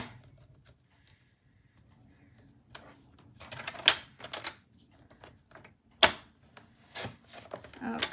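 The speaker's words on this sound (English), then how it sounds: "I'm going to use my trimmer because I think I need to square this up just a little." A paper trimmer slices through card stock, giving several sharp, close blade strokes and scraping slides separated by quiet pauses.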